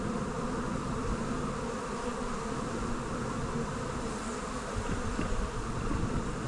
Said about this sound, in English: We want to get away from swarmy bees and angry bees.